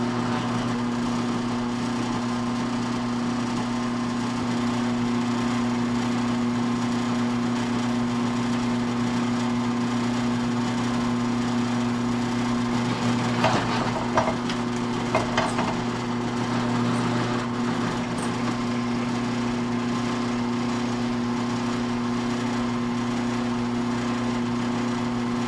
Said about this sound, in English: Got the old Harbor Freight drill press.